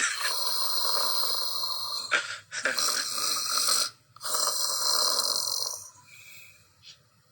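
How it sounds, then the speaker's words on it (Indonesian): Loud, rasping snores come in long drawn-out breaths, three heavy snores with brief quiet gaps between them. "ada suara ngorok itu"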